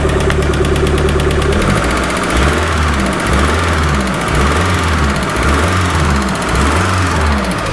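A Mazda MX6 Turbo engine runs steadily at idle, close up, with a rhythmic, slightly pulsing low throb and a faint whine; no talking. The engine had a faulty coil lead.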